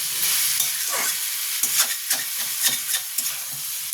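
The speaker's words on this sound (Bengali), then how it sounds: "চিচিঙ্গে দিয়ে সিম করে করে এটাকে আপনাকে রান্না করতে হবে যাতে চিচিঙ্গেটা সেদ্ধ হয়ে যায়" Snake gourd cooked with prawns sizzles gently in a pan on low heat, a soft continuous hiss with irregular spatula scrapes and clinks close by.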